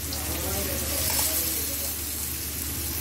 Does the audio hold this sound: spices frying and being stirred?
yes